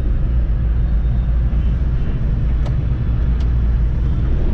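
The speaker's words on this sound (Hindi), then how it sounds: "यार ये देखो ये गाड़ी झटके मारने लग रही है" A Maruti Eeco CNG car with about 29,300 km on it, jerking and losing power as its CNG runs out, makes a steady, loud, low engine and road rumble from inside the cabin, with no talk.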